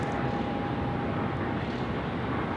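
A KC-135 aircraft taxiing under its own power at Sydney Airport, a steady, loud engine roar and rumble holding throughout with a thin whine above it, no voices.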